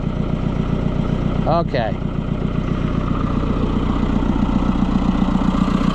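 A White 700 tractor engine runs at a steady idle after starting, a close, even low chug throughout, with a brief spoken word over it early on.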